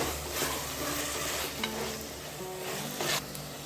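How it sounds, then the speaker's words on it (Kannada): Garlic paste and ginger paste fry in a pan with a soft steady sizzle and scraping stirs, fairly quiet and close, with brief louder bursts as the spoon moves. "ಒಂದು ಚಮಚ ಗಾರ್ಲಿಕ್ ಪೇಸ್ಟು ಒಂದು ಚಮಚ ಜಿಂಜರ್ ಪೇಸ್ಟ್ ತಗೊಂಡಿದ್ದೀವಿ ಚೆನ್ನಾಗಿ ಫ್ರೈ ಮಾಡ್ಕೊಳ್ಳೋಣ"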